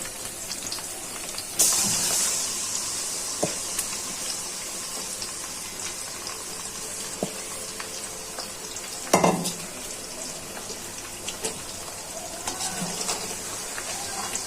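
Marinated chicken drops into a pan of fried onions and sizzles steadily, a broadband frying hiss running throughout with a few louder bursts and spoon scrapes as it is stirred.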